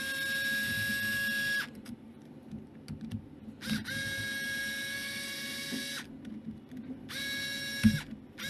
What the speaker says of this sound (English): Then you want to unscrew the two holding the bumper on and the